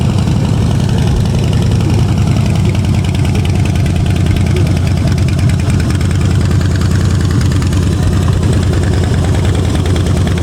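A motorcycle engine idles steadily up close at a bike week rally in Łeba, a continuous low, throbbing rumble with no talking.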